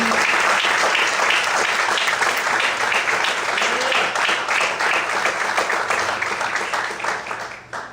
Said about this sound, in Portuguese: Vamos aplaudir a Deus nesta noite.